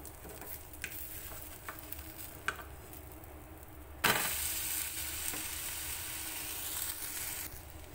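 Uthappam fries on a pan, first as a quiet sizzle with a few soft ticks. Midway it breaks into a loud, bright, steady hiss and crackle that carries on close and continuous to the end.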